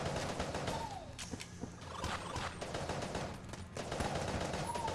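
Gunfire in the game Enter the Gungeon rattles in rapid bursts of shots over a busy backdrop, fairly quiet and continuous with brief pauses between volleys.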